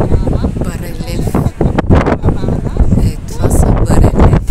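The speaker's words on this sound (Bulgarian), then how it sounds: "Много духа." Strong wind buffets a microphone outdoors at the Acropolis in Athens, a loud low rumbling roar under someone speaking Bulgarian throughout.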